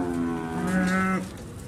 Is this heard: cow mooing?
yes